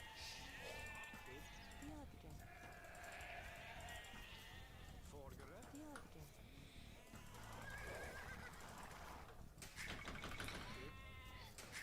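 Sheep bleat repeatedly in an Age of Empires II match, mixed with horse whinnies and game sound effects, while a person talks over them.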